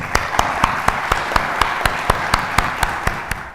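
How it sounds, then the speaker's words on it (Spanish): Audience applause at a book presentation for the book Ecos de la Alhóndiga, a steady wash of many hands clapping with a sharp, evenly spaced beat running through it. It is moderately loud and continuous, and no voices are heard. "a ambas personas yo me gustaría que le diéramos un aplauso en señal de reconocimiento"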